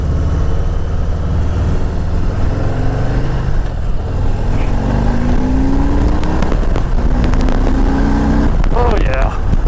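Harley-Davidson Softail Heritage Classic 114 from 2018 accelerating on a ride, a loud close engine roar rising in pitch through the gears under heavy wind noise while a rider talks over it.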